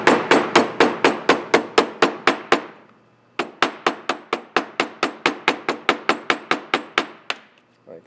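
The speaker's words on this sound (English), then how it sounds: "Now I'm going to knock the holes in here. And I'm going to do that with this end of the hammer." A hammer punches bolt holes through gasket material with quick, evenly spaced sharp taps, about a dozen in a fast run, a short pause, then another steady burst of around sixteen, close and loud with no talking.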